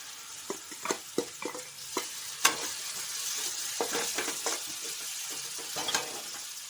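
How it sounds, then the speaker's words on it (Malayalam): Small chopped green tomatoes sizzle in hot oil in a pan while a spoon stirs them, giving scattered scraping clicks and taps over a steady soft frying hiss, close and fairly quiet. "ഇതിലേക്ക് നമുക്ക് തക്കാളി ചെറിയ കഷ്ണങ്ങളാക്കി അരിഞ്ഞ് വെച്ചത് ഇട്ട് കൊടുക്കാം."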